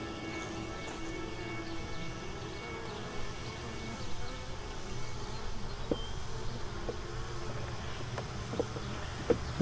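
Honey bees drone in a dense, continuous swarm around an open hive frame, a steady close buzz with occasional louder individual passes.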